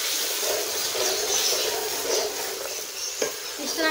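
A spoon stirs a masala of browned onion, tomato and ginger-garlic paste in a pan, scraping and sizzling steadily and close by, with a sharper clack near the end.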